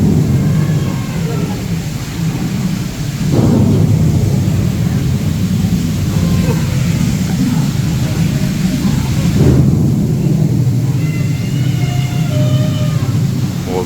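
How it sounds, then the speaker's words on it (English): A simulated thunderstorm rumbles on the Rainforest Cafe river adventure ride in Galveston, with heavy, continuous low rolls and louder swells of thunder around four and ten seconds, while people chatter throughout. "We just barely survived a thunderstorm in the rainforest."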